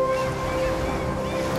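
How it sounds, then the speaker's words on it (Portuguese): Ocean waves roll in from the sea level of the video game Unravel. It is a brief, steady wash of surf mixed with faint sustained game music tones, with no talking. "Aqui tem umas ondas vindo"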